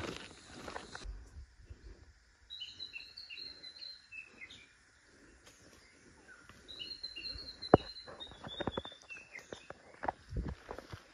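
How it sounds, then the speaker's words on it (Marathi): Forest birds call on a trek near Gokundi waterfall, high repeated chirps and whistles in short bursts at a moderate distance, with footsteps crunching and scuffing underneath. "हे जे पक्ष्यांचे आवाज येतात ना"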